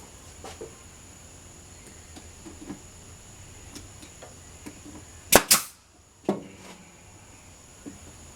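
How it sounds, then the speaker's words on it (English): A nail gun fires into a wooden box, giving two sharp, loud cracks in quick succession followed by a softer knock, standing out against quiet room background. "Nail gun, nail thing, dartboard, dart gun."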